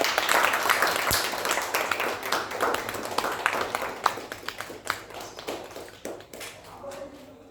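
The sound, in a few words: audience clapping at a launch event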